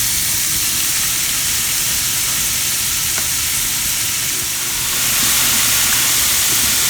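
Onion sizzling and frying in clarified butter in a hot pan, a steady broadband hiss that swells slightly louder near the end, with no talk over it.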